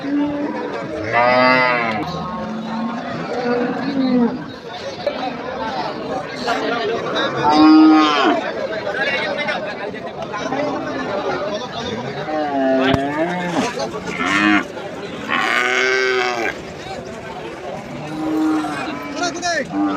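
Cattle moo repeatedly at a busy cattle market (haat) in Ambari, Dinajpur, with loud, drawn-out lowing calls from several nearby animals over a murmur of crowd chatter and people talking.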